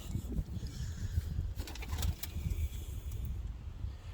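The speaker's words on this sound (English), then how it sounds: "See how the doves are doing." Ring-necked doves and a white pair kept on a farm coo softly in low, repeated notes, with a few brief higher chirps and a steady faint background hum.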